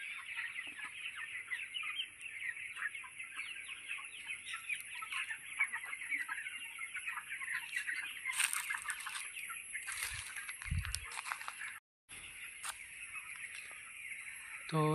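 Thousands of broiler chickens on a large poultry farm keep up a continuous overlapping chorus of clucks and chirps, with a few brief knocks and rustles nearby.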